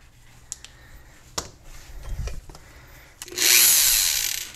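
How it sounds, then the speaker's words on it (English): A Dremel rotary tool fitted with a rough grinding bit cuts into a part for a Toyota 4Runner solar panel install. It whirs up loud and steady near the end, after a few scattered clicks and handling knocks. "I'm gonna Dremel this out so that way it fits on top"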